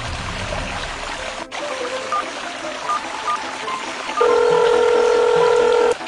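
Phone keypad tones beep one by one as 911 is dialed in a children's outdoor safety game, followed by a steady ringing tone, over a faint trickling stream.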